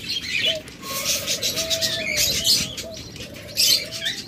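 A pair of budgerigars chirps and warbles at close range, with bright, overlapping twitters and short tonal calls, plus a few busier bursts of chatter.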